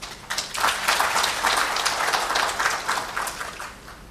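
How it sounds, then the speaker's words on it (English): Audience applause at a pharma seminar, a dense sustained clapping from a crowd that swells quickly and holds steady for several seconds. "Pharmexcil and this sector deserves a big round of applause"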